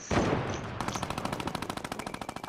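Rapid minigun fire in Fortnite Season 9, a dense, steady stream of loud, evenly spaced shots that starts after a brief burst and rolls on without pause, ending in a sharp crack.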